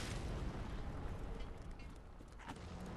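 A broad, steady roar of fire rumbles behind the player in Dark Souls 3, dense and loud throughout with a faint burst near the end.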